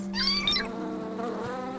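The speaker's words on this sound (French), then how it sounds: "c'est en battant des ailes qu'on obtient un miel plus épais" Cartoon bees flap their wings with a buzzing, whiny drone that rises and wavers over a couple of seconds, close and steady, without speech.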